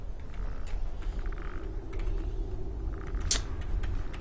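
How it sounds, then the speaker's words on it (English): Creaking from within the video game Skyrim, a low mechanical groan running under a steady ambient bed, with a sharper click or knock near the end. "God, I hate that creaking noise."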